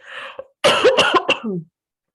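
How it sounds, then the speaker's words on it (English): A single person coughs several times in a quick, harsh burst, close by, preceded by a short throat clear, then silence. "I've got a cough again"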